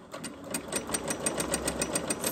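Sewing machine running fast at its longest stitch length, a rapid steady mechanical clatter with regular stitch beats, close and loud, alone with no voices.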